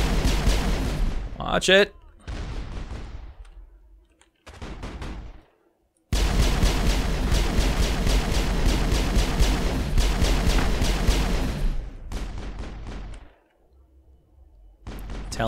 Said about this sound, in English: The rockets.